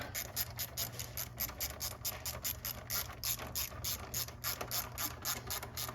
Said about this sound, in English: Tighten up this clamp.